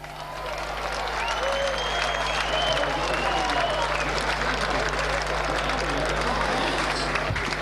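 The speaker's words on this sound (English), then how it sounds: "Although they're cheering now, but that doesn't make any difference." Rugby league crowd cheering and clapping at a 2005 Barrow versus Castleford match: sustained applause and cheers from the stands, steady and broad, with a commentator talking over them.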